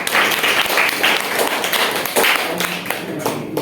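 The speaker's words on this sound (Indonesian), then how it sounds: "Kita boleh beri tepuk tangan dulu yang meriah." A small audience gives lively applause for guests on a business podcast set, with steady, close clapping lasting several seconds and a few individual claps standing out near the end.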